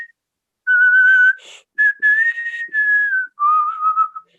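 A single person whistles a clear, tuneful melody in several sustained phrases separated by short pauses, close and bright with no talking.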